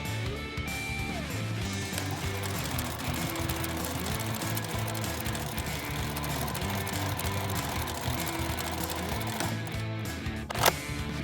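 Steady, continuous whir and rapid mechanical chatter of a sewing machine stitching fabric for a mesh-work pouch from scraps, running at an even pace for about ten seconds before a short knock near the end.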